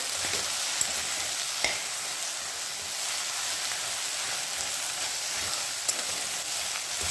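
Okra (bhindi) dry-roasting in a pan over medium heat, a constant close hissing sizzle with a few sharp spatula clicks as it is stirred.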